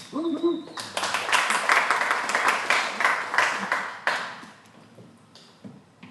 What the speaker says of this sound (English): please give up a round of applause for Patrick jumping in